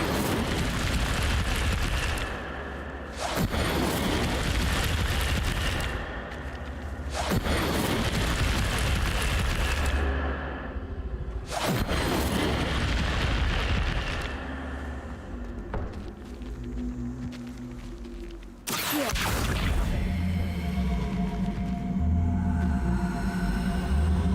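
The Incendio fire spell is cast repeatedly in a Harry Potter video game, each cast a loud whooshing fiery burst that roars for a few seconds before cutting off, several in a row with brief gaps.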